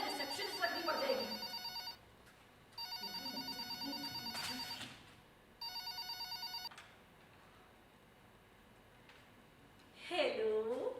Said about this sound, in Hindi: जैसे ये फोन बज रहा है